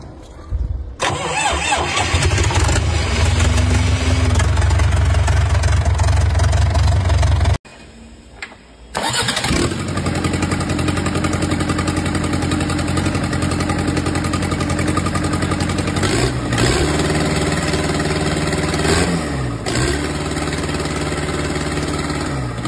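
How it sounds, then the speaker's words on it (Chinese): A Weichai four-cylinder truck engine cranks and catches, settling into a loud, close, clattering idle. It cuts out briefly, then restarts and keeps running steadily, with a couple of short revs near the end. "围柴小四缸启动"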